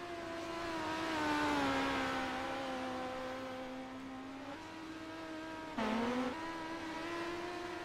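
Midget race cars roar on the dirt track at Knoxville, a steady high-pitched engine drone that swells and fades as the field passes, with a sharp pitch dip and renewed surge as one car accelerates near the end.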